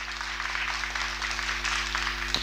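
An audience claps together in sustained applause at a film festival event, a dense even patter of many hands lasting a couple of seconds over a steady low hum.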